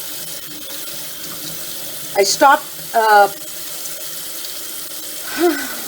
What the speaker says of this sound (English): I'm going to run the potato under water